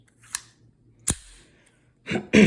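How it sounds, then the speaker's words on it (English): Mauser 1910/14 6.35mm pistol handled in the hand: a light click, then a sharp metallic snap as the slide slams closed, followed by two louder clacks as the magazine is seated, all close and without talk. "Now when you put the magazine in, it will slam closed."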